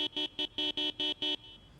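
Car horn in the Project Zomboid video game, six short electronic beeps in a steady rhythm, loud and clear with nothing else heard.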